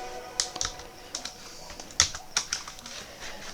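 Code being typed on a computer keyboard for a React Router page, a sparse, close run of irregular key clicks with short pauses between bursts.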